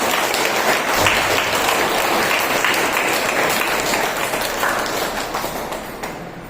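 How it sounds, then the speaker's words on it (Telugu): An audience at a spiritual talk claps in a dense, continuous burst of applause that holds steady for several seconds before gradually tapering off. "మనం అందరము క్లాప్స్ చేయగలగాలి"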